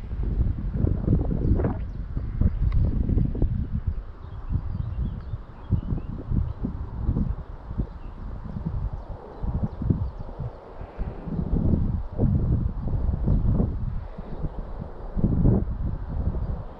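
Strong outdoor wind on a slope during a model aircraft maiden flight buffets the microphone with steady, close, low rumbling gusts that last the whole time.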